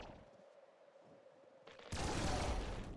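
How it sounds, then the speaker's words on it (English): Bouncy bullets fired in Nuclear Throne with the Ultra Mod: a quiet stretch, then an abrupt loud, dense burst of gunfire that runs on to the end. "The amount of bouncy bullets this man can fire"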